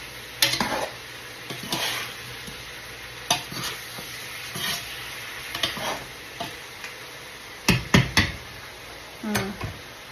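Carrots stirred in a cooking pot, with repeated close scrapes and sharp clinks of a utensil against the pot in an uneven rhythm over a faint, steady sizzle.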